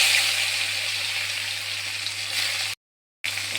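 Sliced bitter gourd fries in hot oil over a dry red chilli and radhuni tempering, a loud steady hiss and crackle that cuts out abruptly before resuming briefly.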